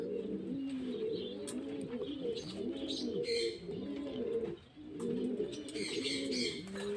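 Young domestic pigeons kept at home coo in a steady stream of soft, overlapping throaty calls, with occasional higher chirps. The sound is close but fairly quiet, with no voices.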